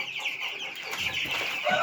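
Broiler chickens cluck softly nearby, short murmuring calls overlapping in a brief burst.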